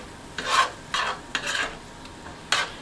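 Cinnamon filling for apple turnovers being mixed in a bowl, four or five short scraping strokes spaced apart, fairly close and clear with nothing else heard.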